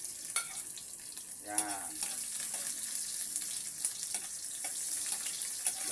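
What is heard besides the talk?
sautéing garlic in hot oil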